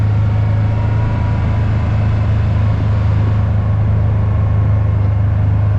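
Kawasaki Pro-FXT 1000 LE side-by-side with a 70 horsepower engine cruising at road speed, a loud constant low drone of engine and wind noise without letup.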